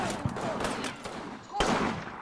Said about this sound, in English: that machine gun is annoying to me, obviously